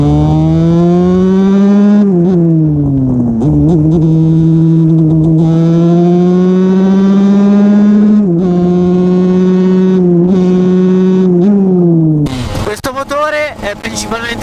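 A Husqvarna TE 125 motorcycle engine drones steadily and loud, its pitch rising and falling through gear shifts and throttle changes, ending with a burst of revving.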